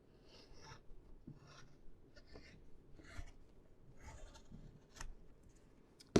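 Scrap cardstock being cut into an oval with a cutting tool along a track: faint, close scratchy rasping in short repeated strokes, with a soft click at the end.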